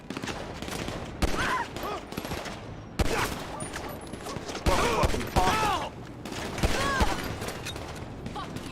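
Repeated bursts of gunfire in GTA's Los Santos, sharp loud volleys separated by short pauses, with weapon mechanism clicks between shots and someone talking intermittently over the action.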